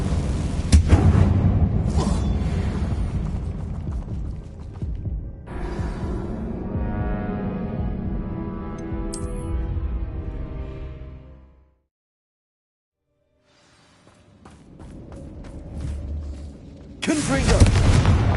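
Repeated fiery Confringo spell blasts in Hogwarts Legacy inside an abandoned mine, booming explosions with rumbling tails, then a brief silence before another loud burst, with a voice speaking among them.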